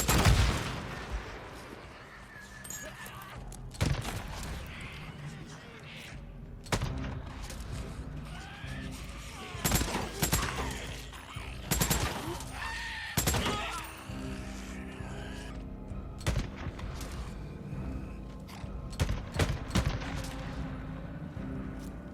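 Repeated gunfire in the Days Gone video game, fired at an infested nest: irregular sharp shots and short bursts spread throughout, loud and close, over a busy game background.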